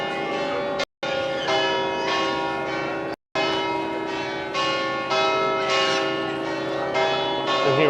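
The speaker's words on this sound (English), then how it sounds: "It's loud, yeah, the bells are loud." Church bells ring loudly at St. Mark's Basilica in Venice, a dense sustained peal of overlapping strikes that carries on for several seconds, cut by two brief gaps.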